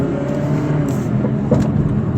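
A 2011-2019 Kia Optima 2.0L turbo engine held at full throttle in drive with a loss of power gives a steady, strained drone with a slight rising whine, loud and close, with no talking over it.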